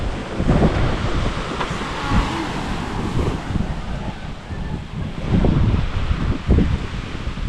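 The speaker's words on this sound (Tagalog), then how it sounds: "Ba't mahangin?" Steady gusty wind at a seashore buffets the microphone with a broad roaring rush, and surf or rustling sits faintly underneath.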